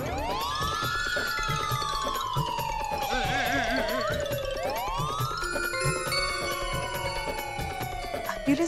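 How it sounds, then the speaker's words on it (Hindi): An ambulance siren wails in repeated long falling sweeps over a steady background, moderately close and clear. Voices murmur faintly underneath. "ये सायरन तो एम्बुलेंस का है"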